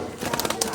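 Pet pigeons make soft, low cooing sounds close by, repeating in short pulses against a faint background hiss.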